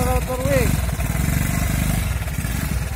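A motorcycle engine putters loudly at close range with a rapid, steady pulse while a voice briefly calls out over it at the start.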